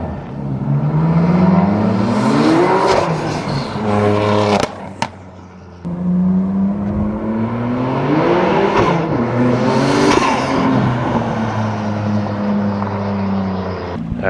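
BMW F80 M3 with a big turbo accelerating hard as its tires grip, engine note rising through gears with a brief gap at a shift, loud and close throughout.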